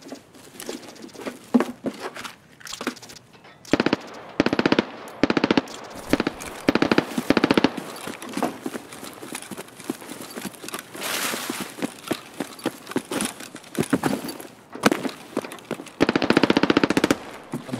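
Bursts of rapid automatic gunfire in the video game Escape from Tarkov crackle in uneven clusters, with scattered single shots and pauses between volleys.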